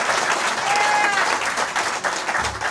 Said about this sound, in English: So give him another round of applause just for that.